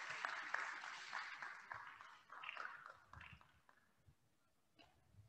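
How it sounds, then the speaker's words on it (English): Applause from an honors convocation audience, fairly quiet and fading over several seconds, with scattered claps trailing off toward the end. "Give this group a round of applause while the next group is coming up."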